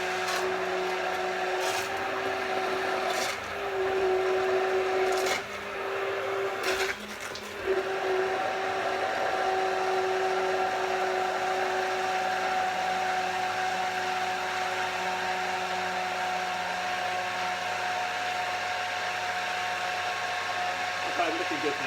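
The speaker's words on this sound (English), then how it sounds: "I have to tilt the blender slightly" A blender blending pepper and tomato soup whirs steadily for a long stretch, with a few brief interruptions early on as the motor pitch shifts before settling into a constant drone.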